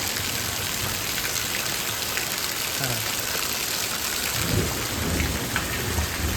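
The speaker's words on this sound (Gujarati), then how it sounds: "કેવો મસ્ત વરસાદ પડે મિત્રો. ભૂકા કાઢે જોરદાર મુસળધાર વરસાદ." A heavy monsoon downpour pounds a village home and fields near Botad after sowing, a dense roar of rain on surfaces with deep thunder rumbling through it, steady and loud from start to end.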